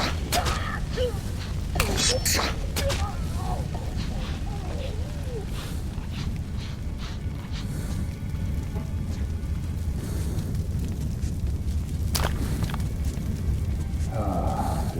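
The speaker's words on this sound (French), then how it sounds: "Grenade incendiaire!" Incendiary grenade bursting in the post-apocalyptic shooter Metro Last Light, a dense roaring rumble with crackling flame noise and scattered sharp impacts, loud and continuous throughout.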